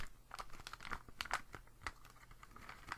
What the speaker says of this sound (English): Now just to peel it open like this.